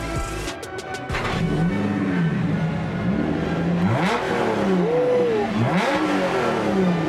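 A powerful supercharged V8 car engine revs repeatedly, its pitch rising and falling in long sweeping roars, loud and close, with no talking over it.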